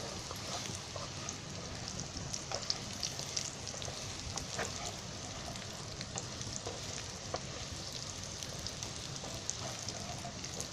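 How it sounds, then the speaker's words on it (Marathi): Vegetables fry in a little oil over a high gas flame, giving a faint, continuous crackling sizzle with scattered pops and light stirring scrapes. "जास्त तेलामध्ये नाही, असे कमी तेल घालायचा आणि असे फ्राय करून घ्यायचे."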